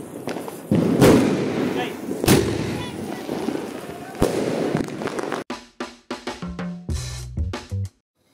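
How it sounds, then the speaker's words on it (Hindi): Diwali sky shot fireworks go off in a rapid series of sharp bangs and thuds, loud and close, with some crackling bursts and a few trailing pops before the sound cuts out. "तो दोस्तों अब आग लगाते हैं अपने स्काई शॉट्स में।"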